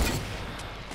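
Dense gunfire in a shooter video game, aimed at the player, forming a brief booming fusillade with crackling shots that stays loud for the whole second.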